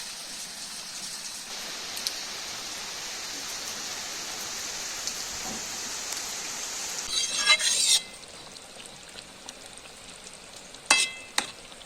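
Rohu fish fries in hot oil in a pan, a steady close hiss of sizzling that runs throughout, briefly broken by a few clatters of a utensil against the pan near the end.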